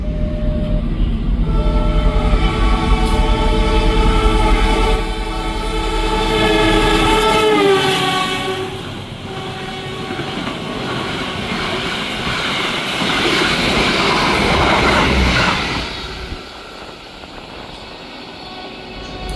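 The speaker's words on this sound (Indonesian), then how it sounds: "Wah, ngebut banget Logawanya" The Logawa passenger train rushes past at high speed beside a train halted near Bayeman station. A loud horn blast falls in pitch as it goes by, over a steady roar and rapid wheel clatter that swell and then drop away.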